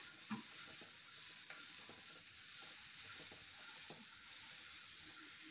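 Spices such as star anise, cinnamon, nutmeg and cloves stirred in a pan while preparing Balinese ayam betutu, a steady soft scraping and faint sizzle with a few light utensil taps, no talking.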